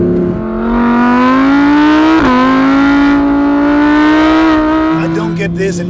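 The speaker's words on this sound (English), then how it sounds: "is the high revving V10 engine" An Audi R8's high-revving V10 engine screams continuously, pitch climbing steadily with a brief dip, then settling lower near the end; loud and close, no talking.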